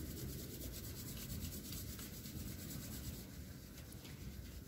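Hands rubbing steadily during a gentle yoga exercise, a close, continuous soft friction sound with a slightly rough, sanding-like texture and no pauses or voices.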